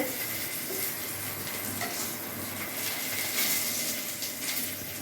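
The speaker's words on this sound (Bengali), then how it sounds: "এখানে এখন পটল ভাজা হচ্ছে" Pointed gourd (potol) fries in a pan with a close, steady sizzle, broken by the scrape and clink of a spatula stirring the pieces, and nobody speaks.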